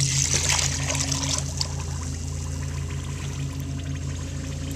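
A quart of water pours steadily into a container while pickles are being canned, a continuous close trickling splash that is loudest at the start and then settles into an even flow, with no talking.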